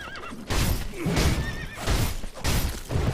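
Horse whinnies repeatedly in Sekiro: Shadows Die Twice during a fight with the mounted Blazing Bull, loud, close cries in three or four bursts, with hoof clatter and battle noise underneath.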